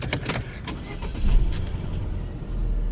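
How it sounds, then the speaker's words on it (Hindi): A car engine cranks and catches, then settles into a steady low idle rumble, with a brief jingle of keys near the start and no talking. "गाड़ी हमारी स्टार्ट हो गई है"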